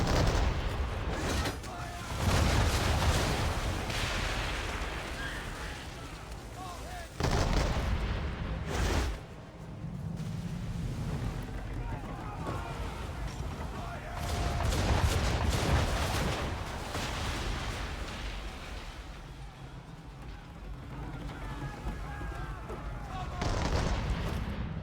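Enemy gunfire in Assassin's Creed 3, a dense run of shots and booming blasts that carries on through the stretch, with some loud bursts and someone talking over parts of it.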